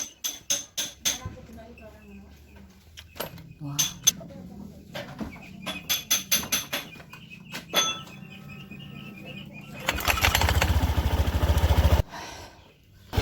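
A motorcycle fitted with homemade double clutch pads is started in a workshop after metallic clinks and tool taps. Someone speaks Indonesian over the clatter, then the engine catches near the end and runs loud and rough for about two seconds before cutting off.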